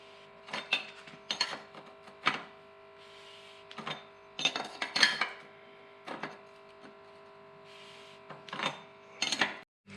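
Clicks and ratcheting from a tool turning a Truvativ GXP bicycle bottom bracket cup clockwise on the drive side, heard as several short bursts of metallic creaks and clicks with quiet pauses between, close up.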